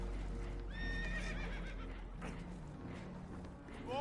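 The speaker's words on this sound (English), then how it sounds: "Horses are spooked, and we're taking on water." In Red Dead Redemption 2, spooked horses on a boat taking on water let out a loud, rising-and-falling whinny over a constant rushing, rumbling background, with fainter neighs and hoof clatter mixed in.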